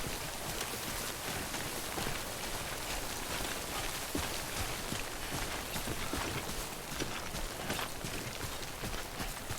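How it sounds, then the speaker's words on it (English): Steady, dense rain hiss from the video game Death Stranding, even and continuous throughout with faint patter, no speech. "Crap, get out of the rain."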